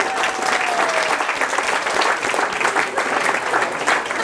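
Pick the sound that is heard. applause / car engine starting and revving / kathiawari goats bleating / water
applause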